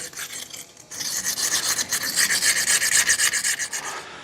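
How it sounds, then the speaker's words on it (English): A screwdriver edge scrapes rust scale off brake parts on a 2000 Dodge Ram 2500 Cummins, a close, rhythmic rasping with quick repeated strokes. "I'm basically just taking the edge of a screwdriver and just gently kind of trying to peel off that rust scaling"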